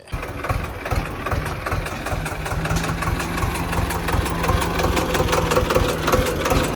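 A tractor, hitched to a rotavator and with faulty steering, idles close by in a loud, steady, rhythmic chug that holds evenly throughout with no talk.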